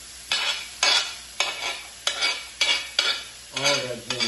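Ginger stir-fried for udon noodles with pork and cabbage sizzles in a hot pan, broken by about eight rhythmic, close scraping strokes of a spatula tossing the pieces, with no one talking.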